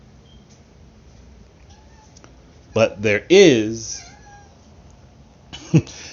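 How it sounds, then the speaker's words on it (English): A pet cat meows several times at close range in a quiet room, giving a few drawn-out, wavering cries. A person speaks briefly. "That's my cat."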